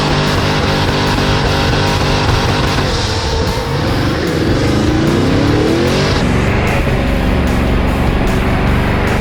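A fuel-injected, custom-built kei truck engine revs hard and loud up close, rising and falling through several throttle bursts with a rough, buzzy roar and some tire noise.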